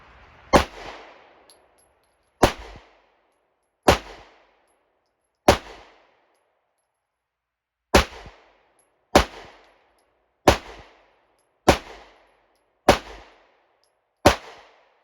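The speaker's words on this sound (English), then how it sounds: "So starting out with the SD9VE on the left target, I'll shoot 1 magazine on the left target with this gun" Ten sharp pistol shots from a Smith and Wesson SD9VE fitted with an Apex spring kit, fired at a target outdoors. The cracks are loud and close, spaced one to two seconds apart with a short pause midway, each followed by a brief decaying echo.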